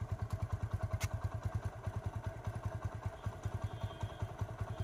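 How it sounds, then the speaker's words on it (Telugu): Motorcycle engine idling close by, a steady, even thumping beat with mechanical clatter, fairly quiet and alone without talk. "ఇంజిన్ బీటింగ్ అయితే చూడండి."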